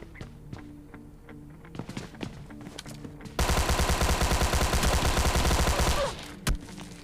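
Gunfire in PUBG Mobile Lite: scattered single shots and clicks, then a loud sustained burst of rapid automatic fire lasting a few seconds, followed by one last heavy shot.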